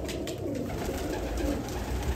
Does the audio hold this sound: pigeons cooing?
yes